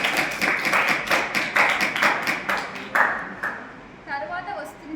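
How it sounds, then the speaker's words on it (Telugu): An audience at a school academic carnival claps for a performing student group: dense, steady applause for several seconds that thins out near the end, with a voice audible underneath. "జ్వాంశం యొక్క గొప్పతనాన్ని తెలియజేసి మన కళ్ళు తెరిపించిన ఈ బృందానికి గట్టిగా చప్పట్లు."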